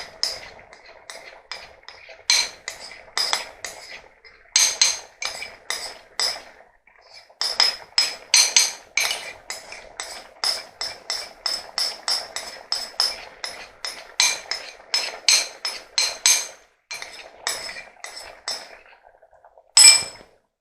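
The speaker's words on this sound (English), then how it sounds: "we're going to add that to the saucepan and stir well to combine it" Homemade tomato relish with flour being stirred in a saucepan, a spoon clinking against the metal pan in quick, irregular bursts of bright taps, close and clear, with no voices.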